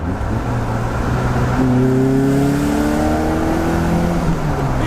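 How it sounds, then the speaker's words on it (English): A car engine revs hard and climbs in pitch as it accelerates through a gear, loud and steady with a rising harmonic whine. "Second gear pull! We love a second gear pull, that sounds insane."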